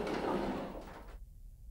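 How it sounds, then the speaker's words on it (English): Elevator doors slide shut with a short rumbling whoosh that ends abruptly in quiet, heard close and alone. "Closing doors, because we gotta close the doors on every floor."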